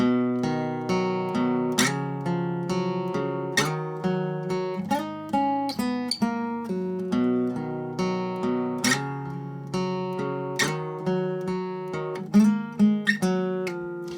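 A guitar lick picked slowly and deliberately, single notes ringing out one after another in a steady, unhurried rhythm, close and clear with no talking.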